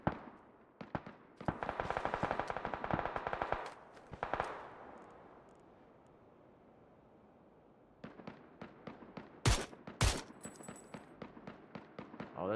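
A player's own gunfire in a shooter video game: rapid bursts of sharp shots, one volley early and another after a quiet gap, loud and close with a few heavier blasts.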